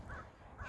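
A bird by a still stream gives two short, hoarse caws, one near the start and one near the end of a brief quiet moment, moderately near and faint.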